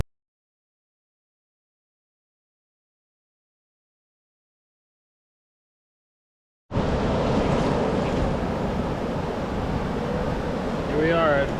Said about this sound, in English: Here we are at Ormond Beach.